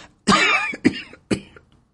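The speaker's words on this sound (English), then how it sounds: "How long have you had that cough?" A close, harsh cough followed by two shorter coughs, each separated by brief silence.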